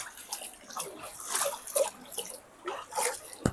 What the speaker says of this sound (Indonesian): Ini sungainya banjir.